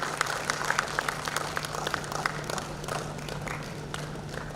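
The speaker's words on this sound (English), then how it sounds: "A big round of applause for all the dignitaries," At a hackathon ceremony an audience claps for the assembled dignitaries, a moderate, somewhat sparse round of applause with distinct individual claps over a steady low electrical hum.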